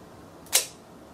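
One crisp mechanical shutter click from a Zorki 3 rangefinder camera snaps once over faint background hiss.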